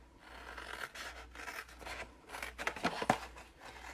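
Scissors cut through paper along score lines in a papercraft project, giving a run of soft rhythmic snips and rasps that close with a few sharper clicks, quiet and close, with no talk.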